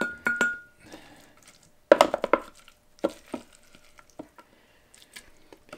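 Blended kumquat pulp is scraped out of a blender and put into a gallon glass jar, giving scattered clinks, knocks and scraping taps of utensils against glass and plastic, close by with no talking.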